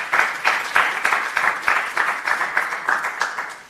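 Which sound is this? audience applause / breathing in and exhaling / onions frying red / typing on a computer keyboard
audience applause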